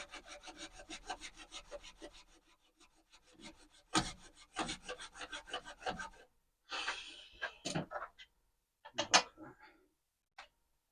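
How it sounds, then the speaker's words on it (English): Hand saw cutting through wet sycamore wood in a woodturning workshop, a steady rasping back-and-forth stroke at first, then stopping and restarting in uneven bursts of close, loud sawing with short pauses between. "It don't help sawing wet wood"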